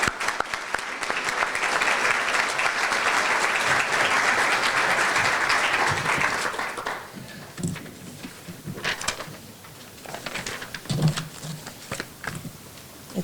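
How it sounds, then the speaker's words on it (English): An audience at a leadership and diversity awards ceremony gives a strong round of applause for the award recipients, dense clapping for about six seconds that then thins into scattered claps and room noise. "One more round of applause for our recipients."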